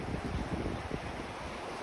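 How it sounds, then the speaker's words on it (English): Wind gusts through a natural wind tunnel near a creek at a natural bridge, making a continuous low rumbling buffet close to the microphone with no talking. "So it is very windy through here."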